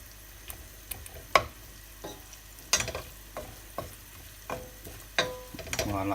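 Tomatoes and onions cook gently in a frying pan, a soft sizzle under irregular scrapes and taps of a utensil pressing and stirring, fairly quiet and with no talk.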